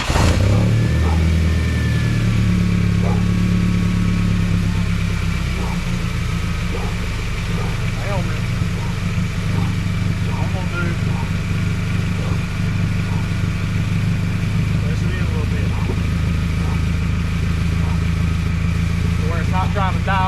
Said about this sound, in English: We're going to crank the truck back up and we're going to see where we're at with that one.